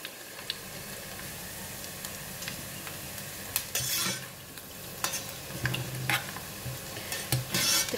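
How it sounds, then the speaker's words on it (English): Fresh ginger fries quietly in oil in a pot, a low continuous sizzle broken by frequent clinks and scrapes of a utensil stirring it. "We will fry until golden brown."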